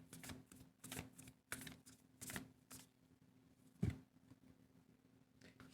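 Tarot and oracle cards are shuffled by hand in close, soft riffling bursts, repeated several times with short pauses and one firmer tap on the table.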